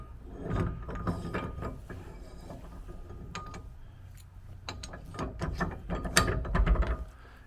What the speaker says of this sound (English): Once you pull the ball out, you put the other one in, put the pin back in, and it pretty much locks into place